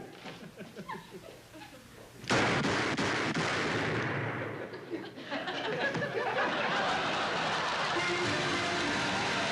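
Gunshots fired point-blank at a bulletproof laundry bag in an old studio comedy sketch, a sudden loud crack of fire after quiet, followed by sustained audience laughter and commotion.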